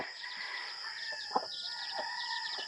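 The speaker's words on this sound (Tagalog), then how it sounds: "Papakain po ako sa aking mga alagang manok po dito mga idol" Pet chickens out on a farm field cluck in scattered short calls against a steady background hum, with one brief sharp knock in the middle.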